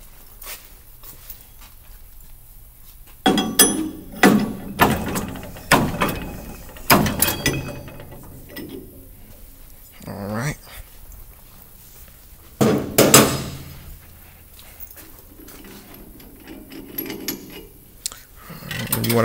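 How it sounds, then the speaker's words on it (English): A brake rotor is removed after resurfacing on a brake lathe, giving a series of loud metallic knocks and clanks spread irregularly through a quiet workshop. "now you want to remove the rotor"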